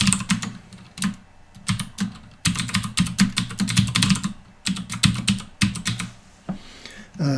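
Fingers type a username and password on a computer keyboard in close, brisk bursts of clattering keystrokes, broken by short pauses.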